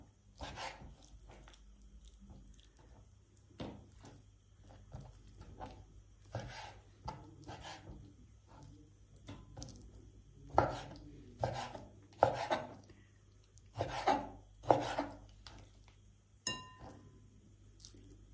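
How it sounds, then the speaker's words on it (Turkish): A knife chops raw chicken into medium-thick pieces for chicken skewers, quiet and close, with irregular sharp cuts against a board that grow louder and more clustered toward the end. "Orta kalınlıkta doğrayalım."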